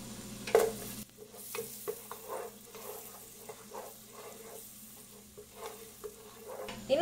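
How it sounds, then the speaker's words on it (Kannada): Garlic and slit green chillies frying in a pan for Japan chicken, with steady close sizzling and spoon stirring scrapes coming in short bursts throughout. "ಈ ಗಾರ್ಲಿಕ್ ಸ್ವಲ್ಪ ಫ್ರೈ ಆಗ್ಲಿ."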